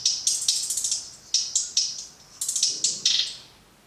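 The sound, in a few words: trap hi-hat without effects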